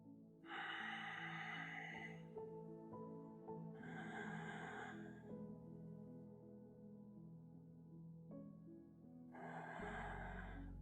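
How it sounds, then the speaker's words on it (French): A yoga instructor breathes in three long, loud, breathy bursts, each lasting over a second and spaced a few seconds apart like a metronome, over a steady low musical drone with no talking. "Toujours connecté au souffle, tu entends ma respiration."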